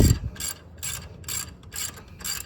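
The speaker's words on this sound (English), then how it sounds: "So use your 14 millimeter to loosen this one, and we'll take both bolts all the way out." A 14 mm ratcheting wrench works the alternator bolts loose on a third-generation 1985–1987 Chevy Camaro, giving bursts of rapid ratchet clicking in an even back-and-forth rhythm, close and clear, with no voices.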